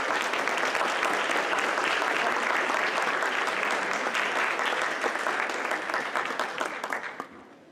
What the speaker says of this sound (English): So if you'd give all of these students a round of applause, I'd appreciate it.